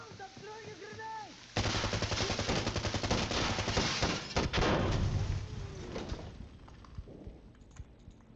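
Automatic gunfire from a mag dump in Insurgency Sandstorm rattles in a long, dense burst of rapid shots lasting several seconds, loud and close, with a few heavier impacts amid the firing.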